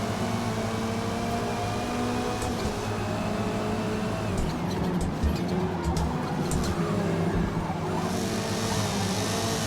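Front-wheel drive car with heavy front weight racing in Forza Motorsport on a wheel, a steady loud engine drone with tonal harmonics running throughout, no talking over it.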